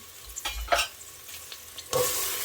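Onions and celery drop into a hot pot of oil and sazon for shrimp asopao, giving a few soft thumps and stirring scrapes, then a sudden louder sizzle that holds steady.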